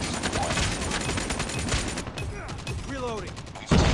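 Rapid automatic Razorback fire from a Call of Duty Mobile match, a dense run of loud, fast shots that breaks off partway through, then a short gap and one more sharp burst at the end.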